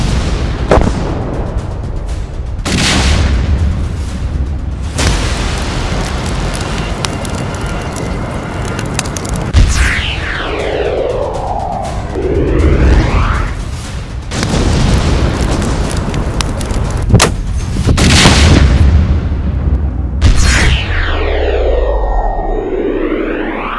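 Several heavy explosions boom out one after another, each a loud broadband blast with rumbling low-end decay, separated by roaring, crackling aftermath.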